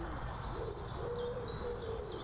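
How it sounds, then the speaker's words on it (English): Birds call through a wood on a fine day, with a faint hooting call repeating several times over soft, distant background noise. "Woodpeckers and birds and all sorts going on."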